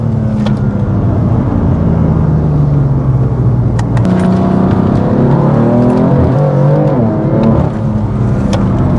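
A BMW M4 accelerates hard, heard from inside the car as a loud, sustained engine roar that climbs in pitch through the gears, with a brief dip as it shifts, and no talking over it.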